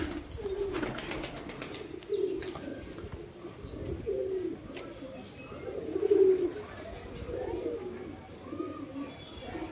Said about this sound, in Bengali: কবুতরগুলো সব বাইরে রিলিজ করে দিই